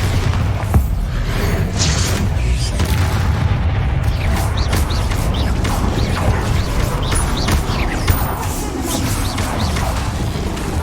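Spell explosions in the wizarding game Hogwarts Legacy: a loud, continuous battle roar with repeated booms, crackles and mechanical clanks layered densely throughout, with no quiet gaps.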